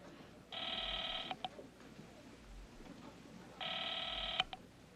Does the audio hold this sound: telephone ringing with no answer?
yes